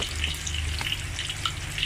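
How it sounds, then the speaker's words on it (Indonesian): Stuffed tofu fries in hot oil, a dense steady crackle and sizzle close up with small pops, continuous throughout and without talk. "sekarang kita goreng"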